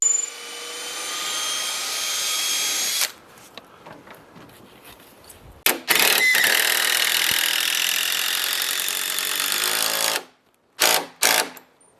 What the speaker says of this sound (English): we're fastening that A-frame down to the foundation timbers. They're fastened with two 10-inch timber lock screws.